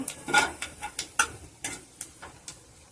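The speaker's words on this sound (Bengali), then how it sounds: "আর দিয়ে দিচ্ছি অল্প কালো জিরে ফোড়ন। ফোড়নটা একটু ভেজে নেব।" Nigella seeds and fennel seeds temper in hot oil, producing quiet, close, scattered pops and crackles at irregular short intervals over a low background sizzle.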